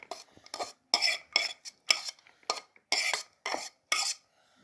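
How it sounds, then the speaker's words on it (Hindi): Chopped onion tipped into a fresh salad and tossed, with about a dozen separate bursts of crisp rustling and utensil clatter in uneven rhythm, close and distinct against near silence. "अब हम प्याज डालेंगे।"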